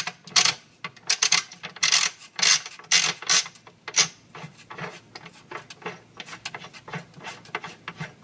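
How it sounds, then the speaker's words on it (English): The dial of a Gaggia MDF coffee grinder being turned counterclockwise off its housing, giving close, irregular ratcheting clicks and scraping bursts that start loud and thin out into softer, quicker clicking. "I'm going to pull this off, the dial, and spin this counterclockwise"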